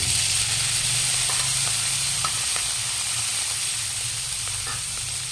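Beef spleen stir-frying for adobo with garlic, a steady bright sizzle holding throughout with soft scraping stirs and occasional pops, close and continuous.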